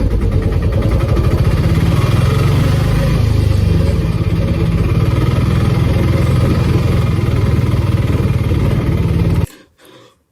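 A motorcycle engine runs steadily at close range, a loud continuous rumble that cuts off abruptly just before the end.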